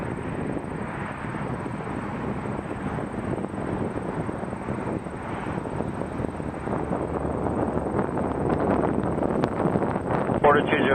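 Cathay Pacific Airbus A350 airliner departing Toronto Pearson, a steady broadband jet engine roar that builds gradually over the whole stretch, with wind buffeting the microphone.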